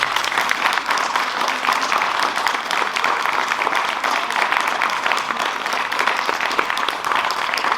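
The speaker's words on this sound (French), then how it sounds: "nous pouvons applaudir bien fort Madame Pivot" Sustained, dense applause from a large audience at a school proclamation ceremony, steady and loud throughout with no breaks.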